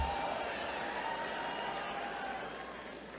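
A large audience claps at a university commencement ceremony, a steady, dense wash of applause heard from a distance that gradually thins toward the end.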